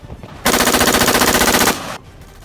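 A machine gun lays down covering fire in an army drama: one loud, close, rapid burst lasts a little over a second and then cuts off into a quieter background.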